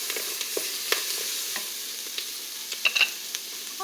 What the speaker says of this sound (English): let's let these onions saute for a little bit